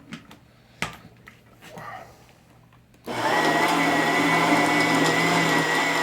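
A motor-driven mixer churns sand and clay for brass-casting moldmaking, starting abruptly after a few faint clicks and taps and then running as a loud, steady whirring drone until the end.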